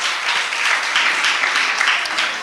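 An audience at a religious discourse claps in a brief, steady burst of dense applause that fills the whole moment with no talking over it.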